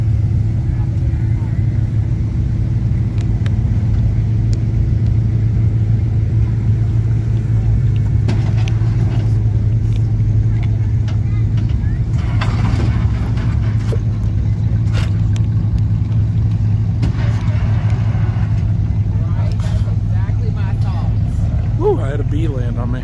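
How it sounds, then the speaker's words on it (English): A lowrider car cruising at a Golden, Colorado car show gives a steady low engine rumble with traffic-like noise throughout, occasional swells as it revs and takes a corner, and people talking faintly nearby. "Got a lowrider over here."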